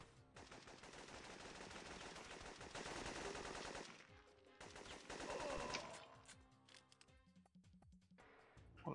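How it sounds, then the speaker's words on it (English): Gunfire in the retro video game Syphon Filter, dense rapid bursts of shots that pause briefly and then return before trailing off, loud and continuous with no talking. "What a shotgun."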